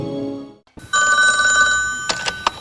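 A telephone bell rings loudly and close by after a brief snippet of music, with a few short knocks near the end.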